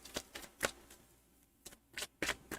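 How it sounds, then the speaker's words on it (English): Tarot cards shuffled by hand in quick, crisp riffling bursts, about eight short rustling flurries with brief gaps, close and fairly quiet, without talk. "I only shuffle on the camera to connect to your energy"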